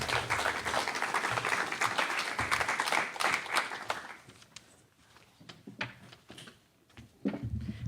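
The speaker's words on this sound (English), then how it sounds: "Before we begin our panel discussion, please join me in welcoming Stephanie with a warm applause" Audience applause for a speaker at a Bentley and Gallup panel event in Boston, steady and dense for about four seconds, then thinning into scattered claps before a short final burst.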